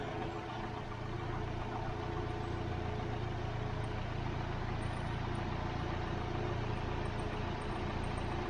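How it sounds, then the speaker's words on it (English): A 2021 Hyundai Elantra engine cooling fan running with the engine idling during an A/C refrigerant recharge, a steady whooshing drone over a low, even engine hum, constant and close throughout. "There she goes, the engine fan's kicking on."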